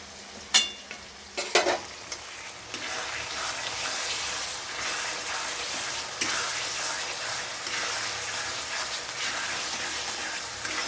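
Fish pieces hit hot oil for a fish curry with pointed gourd: a few sharp spits and crackles, then a steady, close sizzle that runs throughout.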